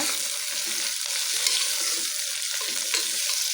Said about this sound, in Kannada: ಸ್ವಲ್ಪ ಬದನೆಕಾಯಿನ ಎಣ್ಣೆಲೆ ಫ್ರೈ ಮಾಡ್ಕೊಳ್ಳಿ